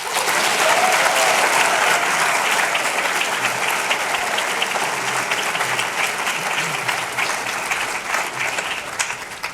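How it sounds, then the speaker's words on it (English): Audience applause at a panel event on civil rights and civil liberties, a loud, steady burst of many hands clapping that carries on for the full stretch and tapers slightly near the end. "Please join me in a round of applause to recognize her for this stellar panel."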